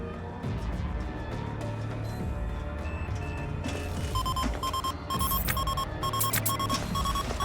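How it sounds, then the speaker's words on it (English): Alarm beeping in the space-station game Ostranauts: a sustained electronic tone pattern becomes a repeating series of sharp, bright beeps in the second half, fairly loud over a busy game soundscape. "Beeping, beeping."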